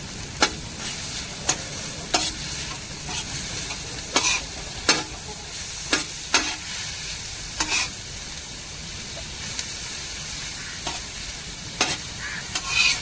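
Garlic and onion stir-fried in a pan for a prawn fry, a steady close sizzle broken by repeated sharp scrapes and clicks of a spatula stirring at irregular intervals, with no talking.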